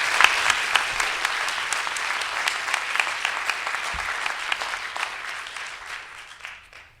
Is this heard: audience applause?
yes